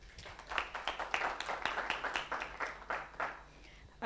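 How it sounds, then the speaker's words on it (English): An audience at a Startup Grind event in Nairobi breaks into applause, a soft, dense patter of many hands clapping for about four seconds, heard from within the room and fairly faint. "So welcome, Ken. Round of applause"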